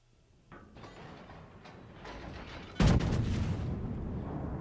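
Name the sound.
destroyer guns firing shells in naval video game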